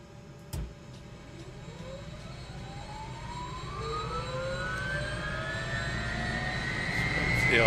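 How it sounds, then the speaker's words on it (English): UH-1H Huey helicopter turbine spools up during an engine start in Microsoft Flight Simulator, a rising whine that climbs steadily in pitch and grows louder over a low hum, with one brief click near the start. "so you can hear the beautiful engine start sounds rather than me waffling"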